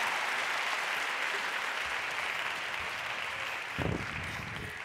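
A conference audience applauds after a talk on a main stage, a steady wash of many hands clapping that stays even throughout, moderately distant, with a faint voice or cheer midway.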